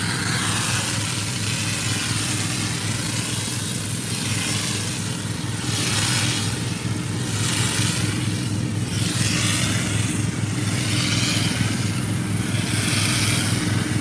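Pressure washer engines running together at a steady, loud drone with a rhythmic pulsing roar, continuous throughout with no talk.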